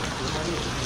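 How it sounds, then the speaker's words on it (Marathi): Heavy monsoon rain pours down in a steady, dense hiss with no break, brief and close by, and no voices come through it. "एकदम झापूक झुपूक असा पाऊस चालू झालाय"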